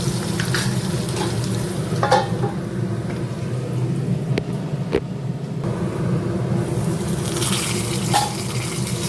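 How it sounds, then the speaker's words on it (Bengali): Potatoes fry in oil in a pan, giving a steady, dense sizzle close up that runs without a break, with a few faint clinks of utensils against the pan. "আলুটা মোটামুটি লাল লাল করে ভাজা হয়ে গিয়েছে"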